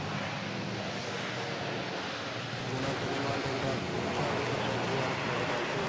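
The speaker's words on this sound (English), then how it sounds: "next up is Kuwaiti about to touch down. 777 Heavy, here we go." A Kuwait Airways Boeing 777 airliner touches down at Manila airport, heard as a broad, distant jet roar with wind noise that swells slightly partway through and holds steady to the end.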